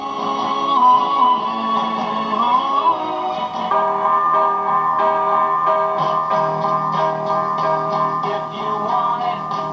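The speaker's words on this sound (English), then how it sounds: "Right now, what you're hearing is coming out of my transmitter." Music with steady tones plays continuously through an AM radio from a transmitter, filling the whole stretch at a fairly loud, even level with no talking.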